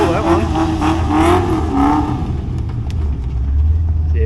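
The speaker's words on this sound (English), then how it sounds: "These are purpose-built burnout cars." A purpose-built burnout car at a motorplex exhibition day keeps up a loud, continuous engine roar with surging revs, heard close. Voices speak over the noise.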